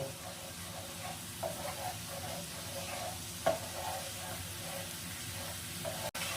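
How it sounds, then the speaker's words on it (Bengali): Sour yogurt being sautéed in a pan while cooking green paneer, a steady sizzle and frying hiss with occasional stirring scrapes, close and continuous with no talk. "এই টক দইটাও এর সঙ্গে কষিয়ে নেব।"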